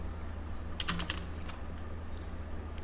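Quick bursts of keystrokes on a computer keyboard while JavaScript code is typed: a short cluster of rapid clicks, then a few scattered taps, close and soft against a steady background hum.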